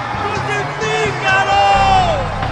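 A crowd in a dramatized Passion reading shouts loudly and angrily, raised voices layered over one another and swelling toward the end.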